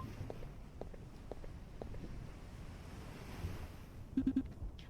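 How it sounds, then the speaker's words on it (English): Ocean waves wash steadily on the seaside of an island in the video game Escape Everlit, a soft continuous surf under light footstep-like taps, ending with a brief cluster of sharp clicks. "Definitely the sound of ocean waves."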